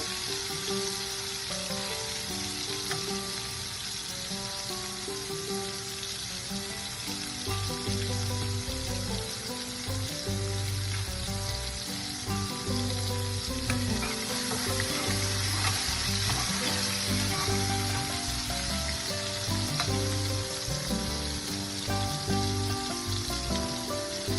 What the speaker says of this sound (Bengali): আমি এটাকে বেশ একটু লাল লাল করে ভেজে তুলব।